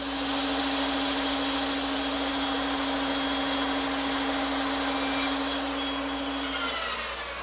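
A bandsaw cuts wooden Adirondack chair slats at 90 degrees, a loud, steady motor hum and blade rush running unbroken before the pitch drops and the machine winds down near the end.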